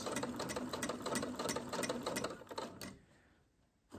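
A sewing machine stitches shirred fabric in a fast, steady run of needle strokes for nearly three seconds, then stops and leaves only quiet room noise.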